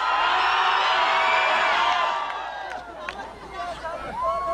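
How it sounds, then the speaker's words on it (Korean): A large crowd at an outdoor temple music festival concert shouts and cheers, a loud sustained roar that dips briefly and swells again, with scattered whoops and a voice over it. "그 위에 어르신들 소리 질러 주세요!"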